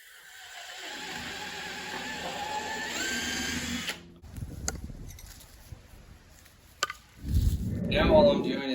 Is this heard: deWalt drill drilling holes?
yes